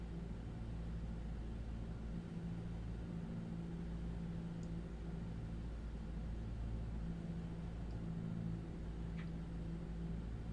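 A small aircraft engine is throttled back to about 1800 RPM as the plane turns onto base. The engine drones steadily and loudly for the whole stretch, a constant low rumble with no break.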